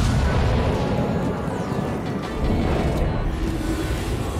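Warship guns boom in World of Warships amid a dense, continuous roar of naval battle, with heavy low rumbling sustained throughout and no clear gaps between shots.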